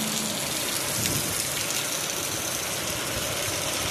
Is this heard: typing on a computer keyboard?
no